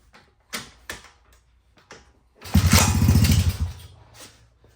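A 1985 Honda ATC70 three-wheeler upgraded to a 125cc engine gives a few short sputtering cranks, then catches and runs for about a second with a loud, close, rapid pulsing putter before cutting back down.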